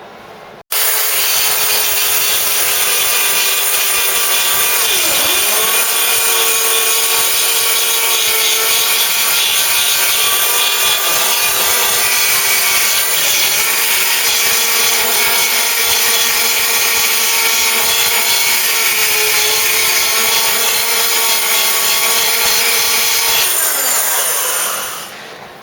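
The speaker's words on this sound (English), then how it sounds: "I'll grind back and we'll have a look." Power grinder sanding back the metal body panel of a Mk3 Ford Cortina during restoration, a loud sustained high-pitched whine for over twenty seconds with brief dips as the tool shifts, no talking.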